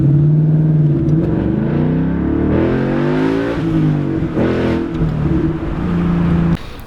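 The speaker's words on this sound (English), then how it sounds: "I'll try to put in a clip of me driving with the gauge lighting up red." A Ford Mustang engine hums steadily, then revs up and down in several loud, close rising and falling sweeps while driving, cutting off abruptly near the end.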